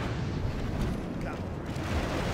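Dense, continuous battle noise of artillery and missile fire in the strategy game Third Age: Total War, with steady rumbling booms and no clear gaps, fairly loud throughout.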